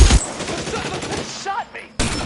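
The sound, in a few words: gunfire in the video game L.A. Noire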